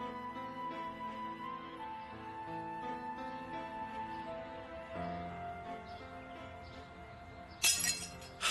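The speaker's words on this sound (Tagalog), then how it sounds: "Nabasag ko yung paboritong vase ni Tia Maring" Over a steady tonal musical background, a glass vase shatters near the end in a short, bright crash followed by a brief tinkle.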